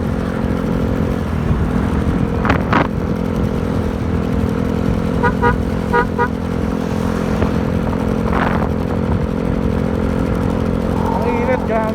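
A Yamaha Mio Gear 125 scooter cruises steadily, its engine a constant low drone with wind noise, joined by a few brief clatters and toots from traffic along the ride.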